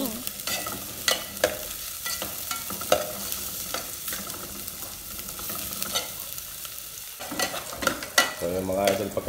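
Garlic, ginger and onion sautéing in a pan for native chicken sampalok soup: a constant loud sizzle with frequent sharp spatula scrapes and taps against the pan throughout.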